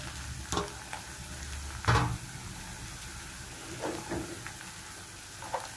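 Chopped tomato added to a pan while cooking lottia fish with potatoes, sizzling and frying with a steady hiss, broken by occasional stirring scrapes and knocks, close by, with no talking.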